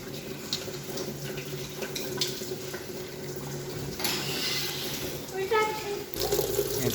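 Water trickles and drips steadily inside the enclosed drum of a switched-off automatic washing machine, which keeps filling with water, with a few sharper drops and clanks near the end.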